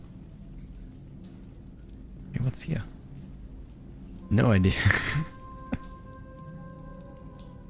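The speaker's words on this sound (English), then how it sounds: "to me, it sounded like water on a tin roof" Rain pattering on a tin roof in the video game Mass Effect, a steady wash of drumming drops running throughout, with people briefly talking over it.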